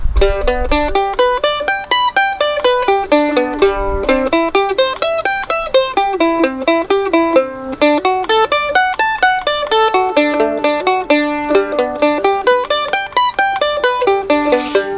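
An instrument picks out a 1-4-5 chord form as a steady arpeggio, one clear note after another in an even rolling pattern, alone and fairly loud throughout.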